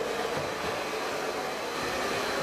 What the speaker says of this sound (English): let's get a hairdryer out and a brush